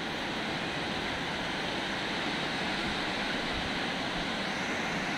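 Splashing water in a natural outdoor setting makes a continuous broadband rush, steady and fairly loud, like surf or a cascade close by, with no voices.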